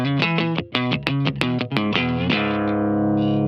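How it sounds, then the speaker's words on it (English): An electric guitar played straight, with no compressor pedal, gives a run of distorted, choppy notes with uneven attacks and dips between them, then ends on a sustained chord that fades slightly. "Without the compressor, it sounds like this."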